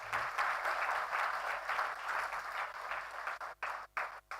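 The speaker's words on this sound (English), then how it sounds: "please, a round of applause" Sustained audience applause after a memorial lecture, a dense even roar of many hands clapping that breaks up into brief gaps and trailing claps at the end.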